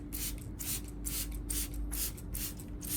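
A spray bottle mists a nutrient solution of coffee and vitamin B1 onto anthurium leaves, about seven quick spritzes in a steady rhythm over a low constant hum.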